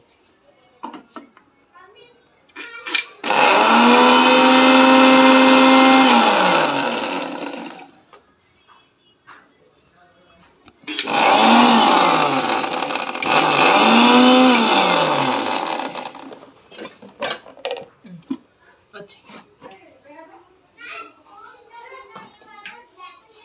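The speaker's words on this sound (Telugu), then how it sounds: "ఇప్పుడైతే మిక్సీ కొట్టుకుంటాను దీన్ని" A kitchen mixer grinder whirs loudly in two bursts, grinding roasted peanuts with chili powder, salt and unpeeled garlic cloves; the motor spins up, holds for a few seconds, stops, then runs again, with faint household noise between.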